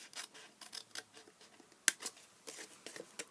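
Paper card being cut with scissors for an Easter flip-top box, a series of quiet, close snips and soft rustles in irregular bursts, with one sharper click midway.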